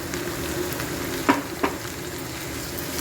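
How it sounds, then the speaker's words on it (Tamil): Marinated prawns and onions frying in oil for curry leaf prawns give a steady close sizzle, with two sharp scraping clicks of stirring just past the middle. "வெங்காயம் ஓரளவு வதங்கின உடனே ஏற்கனவே நம்ம மேரினேஷன் பண்ணி வச்சுருக்கிற அந்த பிராணை இதில் நம்ம சேர்த்துடலாம்"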